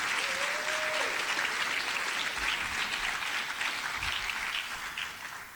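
An audience applauds for the middle school Teacher of the Year at a school district ceremony, sustained clapping that holds steady before tapering slightly at the end.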